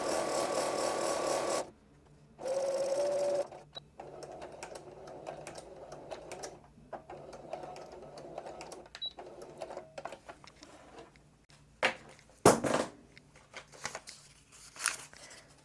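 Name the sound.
sewing machine stitching a rag quilt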